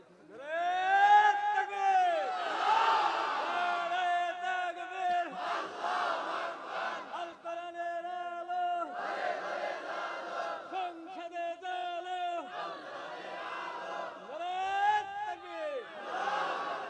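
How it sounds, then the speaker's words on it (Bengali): A large crowd at a Bengali waz sermon shouts takbir in loud, drawn-out unison calls, several waves rising and falling and echoing across the gathering. "একটা তাকবীর দেন তো দেখি।"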